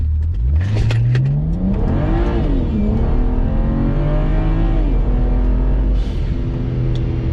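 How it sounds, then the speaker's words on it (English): A car with a flashed 6HP transmission on an xHP stage 3 tune launches hard with tire spin, its engine roaring loud and close as it climbs through revs and shifts for several seconds. "More tire spin out of that one."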